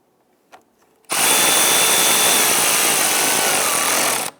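Power tool whirring steadily for about three seconds while tightening an air intake tube clamp on a 2011-2023 Dodge Charger 3.6L V6, loud and close, preceded by a few faint clicks.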